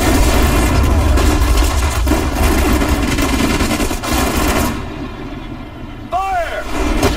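Units open fire in a World War II battle in the Sudden Strike 4 strategy game, with a loud, dense barrage of gunshots and booms that continues under voiced unit callouts.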